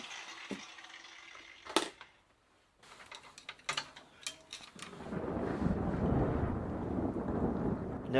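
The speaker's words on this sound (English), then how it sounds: "Sounds like the thunderstorm has finally arrived." A thunderstorm outside a home workshop, heard as a broad, sustained rumbling roar that swells in over the last few seconds after scattered ticks and knocks nearby.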